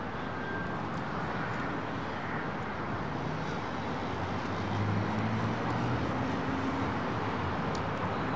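An Icelandair jet at London Heathrow Airport at sunset produces a broad, steady distant engine rumble that swells slightly midway, with no voices over it.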